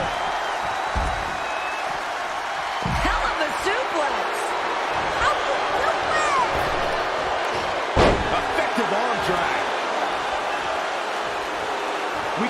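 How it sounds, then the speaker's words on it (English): A suplex slam lands in the WWE 2K20 wrestling video game, heavy thuds hitting the mat amid a roaring arena crowd while commentators talk over the action. "Hell of a suplex."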